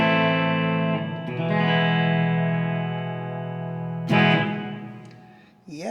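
A Telecaster-style electric guitar rings out through a 1965 Fender Deluxe Reverb amplifier with a four-speaker cabinet simulation, sustained chords fading slowly, then a fresh strum near the end with a touch of reverb.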